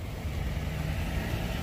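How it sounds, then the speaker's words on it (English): Several cars running at a drift event, heard as a steady distant engine rumble with low idling drone throughout, far off and faint with no talk. "There's still a few cars, you can kind of hear some."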